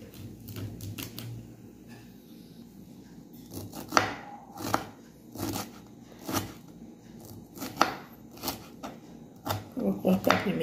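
A knife chopping vegetables strikes a cutting board in quick, irregular bursts of sharp taps, close by, with some quiet talk in the background.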